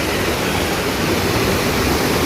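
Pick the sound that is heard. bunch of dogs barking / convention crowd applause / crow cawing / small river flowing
small river flowing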